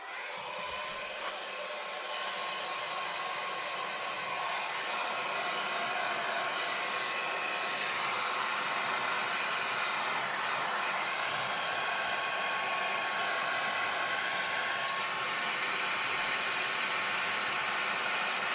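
An embossing heat tool blows steadily while melting embossing powder on a handmade card, a continuous airy whir like a hair dryer holding at an even level throughout.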